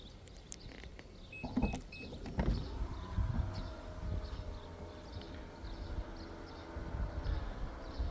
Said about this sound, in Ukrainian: Відкривання помахом ноги.